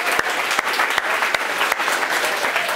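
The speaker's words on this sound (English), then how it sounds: "Big round of applause for Oak Tree Primary." Applause for a primary school's award winners at a school awards ceremony, a dense steady clapping from a crowd with a few sharper individual claps standing out, continuous and fairly loud throughout.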